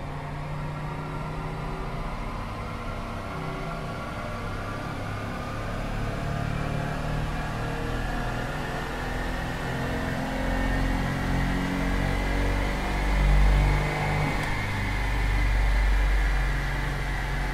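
Chrysler Stratus engine running on a dynamometer during a power measurement, a steady mid-pitched drone that slowly rises in pitch and loudness as revs climb, with a brief peak near the end.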